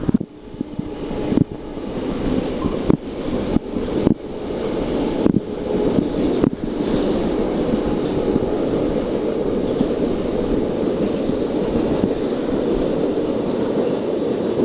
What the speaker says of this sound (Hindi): ये ट्रेन जा रही है और ये भी स्क्रीन से गायब हो गई है